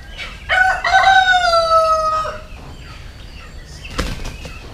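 Roosters crow loudly and close by, with a long drawn-out call and overlapping fowl calls, as guinea fowl move in to separate two fighting roosters in Jaffna; a brief sharp knock follows near the end.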